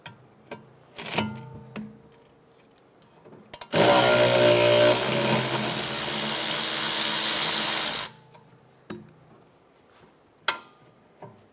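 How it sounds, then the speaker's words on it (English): A power tool with a 12mm socket on a 2013-2017 Honda Accord rear caliper whirs loudly in one sustained burst of about four seconds, with scattered ratchet clicks and metal clinks before and after. "Using a 12mm socket, remove the bolt holding the e-brake cable to the caliper."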